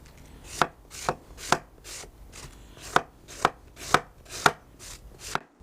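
A large knife shreds cabbage for barrel-style sauerkraut, giving about eleven crisp, close chopping strokes in a steady rhythm roughly half a second apart, each a sharp crunch with no talking.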